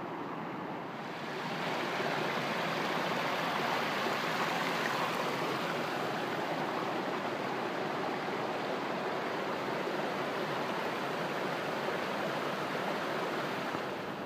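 Steady, broadband rushing water from waterfalls pours continuously without a break, heard from fairly close, dense and even throughout.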